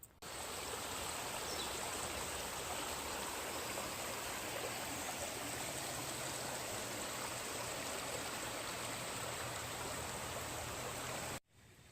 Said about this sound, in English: It's more like a river, a little stream, little mountain stream that we're hiking up